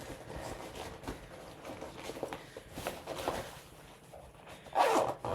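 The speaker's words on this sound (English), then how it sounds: "I hope you will not be too annoyed by the zippers." Zippers on fabric project bags for cross-stitch supplies are opened, giving several quick rasping pulls at close range, with soft handling rustles between them and a louder zip near the end.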